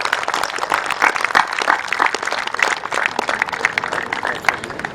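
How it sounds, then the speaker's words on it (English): Sustained applause from an audience, a dense patter of many hands clapping at steady loudness throughout. "all of you to give him a round of applause"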